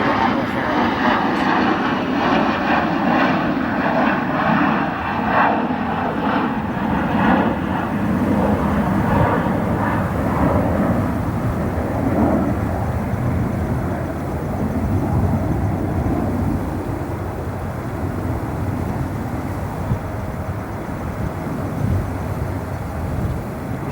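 An Airbus A340 lands at night at O'Hare International Airport, holding its nose high for aerodynamic braking; a loud, steady jet engine roar and rumble fills the whole stretch, with a voice talking faintly underneath.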